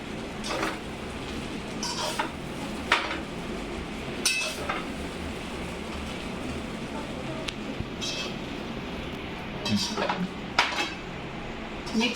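Macaroni pasta rice mixed in a pan, with scattered metallic clinks and scrapes of a spoon against the pan over a low background hiss, close and intermittent.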